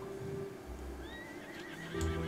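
A horse in the online game Star Stable Online gives a short whinny with a rising and wavering pitch, fairly faint against low background sounds and not masked by any talking.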